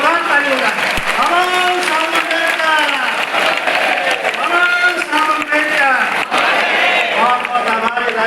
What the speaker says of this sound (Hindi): एक बार जोरदार ताली होगा